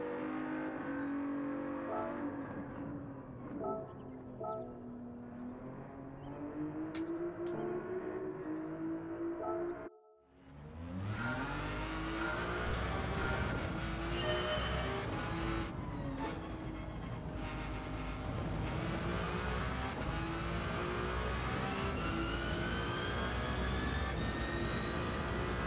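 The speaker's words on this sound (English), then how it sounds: "Hear that hybrid engine roaring." Hybrid GR1 race car engine roaring at Watkins Glen in Gran Turismo 7, a loud continuous rising and falling drone of revving with a brief dropout midway, then a harder, brighter roar through the gears.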